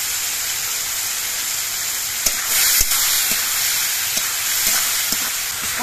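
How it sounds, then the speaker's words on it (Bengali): Karamcha fruit stirred in hot oil with salt and turmeric, giving a steady close sizzle and frying hiss throughout, with a few sharp clicks of the spoon against the pan. "করমচাগুলো তেলের মধ্যে একটু নাড়াচাড়া করে নিয়ে"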